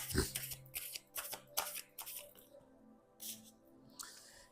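Tarot cards being shuffled and drawn at close range, with several crisp riffles and flicks in quick bursts, and a person talking over them.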